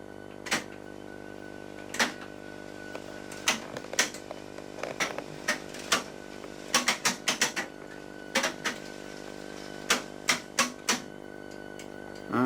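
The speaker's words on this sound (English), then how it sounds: "rewind the tapes" Switch-off routine on a Tandberg IS6 language lab: mechanical clicks and clunks from the tape machines rewinding, irregular sharp taps over a steady electrical hum, with no voices.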